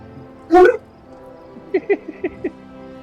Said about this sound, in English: They're probably just barking at something across the street